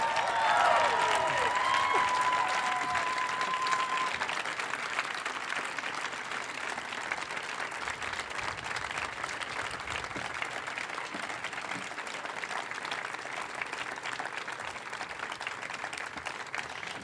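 Sustained audience applause at a university campaign celebration, dense clapping from a large crowd that starts strong, fades slightly and holds steady, with a brief whistle early on.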